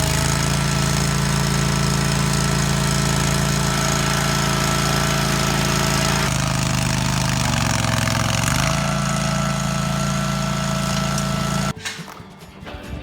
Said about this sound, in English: And right now we're just trenching this out.